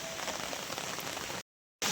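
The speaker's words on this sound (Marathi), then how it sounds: "इकडे पाहू शकता पाऊस पण खूप चालू आहे" Heavy monsoon rain pours down steadily in a village, a dense, loud hiss of drops on surfaces that cuts off abruptly near the end before resuming.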